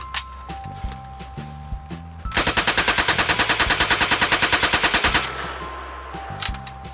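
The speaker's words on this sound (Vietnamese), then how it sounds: "cái súng có thể bắn được những con quái thú này các bạn" A video-game gun used to shoot monsters fires a rapid, evenly spaced automatic burst of about twenty loud shots lasting around three seconds, set against steady background music with softer thumps before and after.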